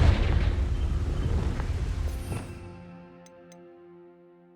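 A Confringo blasting spell in the Hogwarts Legacy video game sets off an explosion, a loud, close, rumbling boom that fades over about two seconds into a quiet, tonal magical shimmer with a couple of faint clicks.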